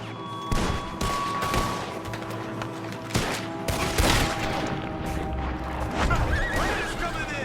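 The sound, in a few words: gunfire in the video game Red Dead Redemption 2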